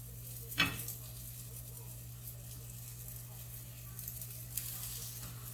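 Breakfast quesadillas, just flipped to their second side, frying in a pan: a quiet, steady sizzle over a low hum, opened by a single clack of spatulas.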